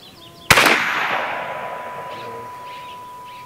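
A Challenger Pro 357 PCP air rifle firing a slug: one sharp, loud crack followed by a ringing tail that fades over a couple of seconds, with faint background sounds before and after.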